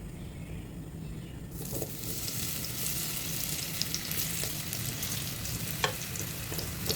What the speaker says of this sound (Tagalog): Kapag mainit na yung cooking oil, igisa muna natin saglit yung ating mga gulay.